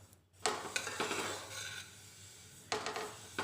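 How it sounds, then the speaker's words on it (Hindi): Sesame seeds, 250 grams, roasting in a pan over a low flame for til gud chikki, stirred nonstop, giving repeated dry scraping and rustling strokes that come in bursts close up, with no talking. "ऐसे लगातार चलाना है, आपको रुकना नहीं है।"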